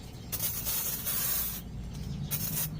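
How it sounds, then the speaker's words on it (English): Two loud hissing bursts from an aerosol spray can, a long blast followed by a shorter one, close up with no talking. "So I'm going to kind of spray it down."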